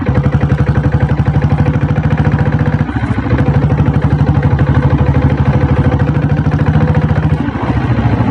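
A diesel Royal Enfield Bullet motorcycle engine runs steadily at idle, a loud, close, even low thump with a mechanical clatter throughout and a brief dip near the three-second mark, with no talk.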